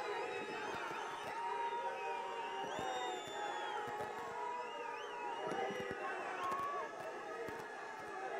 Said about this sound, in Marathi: टाळ्यांचा अति प्रचंड गजर आणि तुतारी वाजली पाहिजे